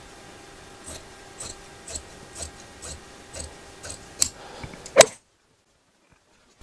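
Scissors snip through excess fabric while a headboard is being upholstered, a steady run of close crisp cuts about every half second, ending in one louder snip before silence.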